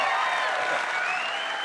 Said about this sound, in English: Can we just applaud the fact that Kristi Noem is out of a job one more time?